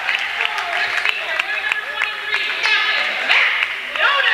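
A capacity crowd in the Dean W. Houghton Memorial Gymnasium claps and cheers steadily during boys' varsity basketball player introductions, under an announcer's voice.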